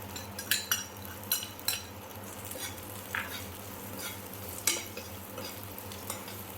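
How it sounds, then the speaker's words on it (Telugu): Cumin seeds frying and stirred in a pan for a guava chutney, a soft steady sizzle broken by several sharp clinks and scrapes of a metal spoon against the pan, close and alone without speech. "బాగా ఫ్రై అయిన తర్వాత కొంచెం జీలకర్ర వేసుకున్నానండి."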